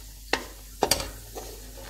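Carrots fry in a pan for Kabuli pulao, a soft sizzle under three or four sharp stirring clicks and scrapes close by, with no talking.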